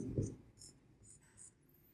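A pen scratching across paper or a board while writing out a Class 10 trigonometry solution: several faint, short strokes in quick bursts with quiet gaps between them, close by, with no talking.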